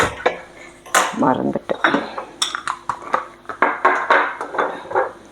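Metal cooking pots and a pressure cooker clank and clatter in a home kitchen during morning cooking, a string of sharp knocks and scrapes close by, with a brief spoken word among them.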